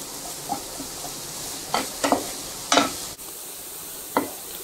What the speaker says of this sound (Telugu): కట్ చేసుకున్న 2 మీడియం సైజ్ ఆనియన్స్, అలాగే ఒక కరివేపాకు రెమ్మ వేసుకుంటున్నాను. వీటిని బాగా మనం ఫ్రై చేసుకుందాం.